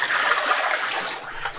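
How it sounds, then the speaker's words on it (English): Salt water poured into a container of cold water makes a steady, close pouring and splashing sound that fades a little toward the end, with no talking. "I'm going to go ahead and add my salt water to my cold water here."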